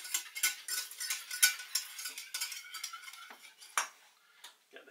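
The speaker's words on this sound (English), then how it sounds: "I'll give that a mix before I start adding any milk" Cornstarch mixture stirred in a bowl with a utensil, light rapid clinks and scrapes against the sides in an uneven rhythm, close and moderately quiet, with no one speaking.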